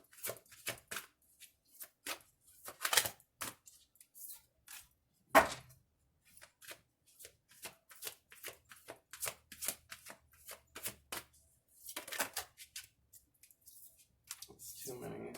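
Tarot cards handled and shuffled for a reading, producing a close run of crisp riffling clicks and soft slaps that come in short irregular bursts with brief pauses between.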